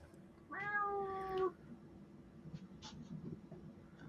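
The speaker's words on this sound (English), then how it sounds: "Your cat meows with attitude." A house cat gives one loud, drawn-out meow of about a second, close by, followed by quiet room sound.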